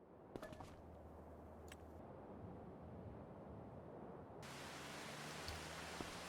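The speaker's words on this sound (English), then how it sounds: "It's raining at the moment." Steady rain in Farming Simulator 25 hisses throughout, growing louder and brighter partway through as the downpour intensifies, with a low hum underneath and a few faint clicks.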